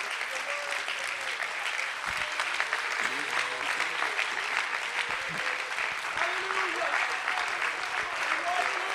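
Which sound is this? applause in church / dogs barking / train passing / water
applause in church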